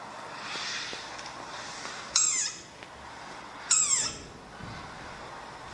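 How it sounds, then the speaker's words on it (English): Two sharp bird squawks come about a second and a half apart, standing out clearly over a steady outdoor background hiss with no talking. "Yeah, that's a bird."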